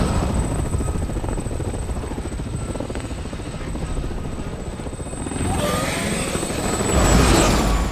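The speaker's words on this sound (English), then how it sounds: "Do we get to control the chopper?" A helicopter in Resident Evil 6 flies close by with a loud, continuous rotor thrum and engine whine that swells toward the end, alongside a steady high tone.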